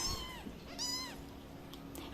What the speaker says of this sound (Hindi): पहले मैं बिल्ली और उसके बच्चों को बाहर निकालूंगी